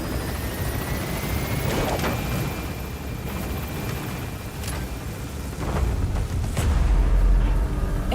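A military helicopter in Metal Gear Solid V climbs away from a landing zone. Its rotor roar is loud and continuous with a deep rumble that grows heavier toward the end, and no voices come through.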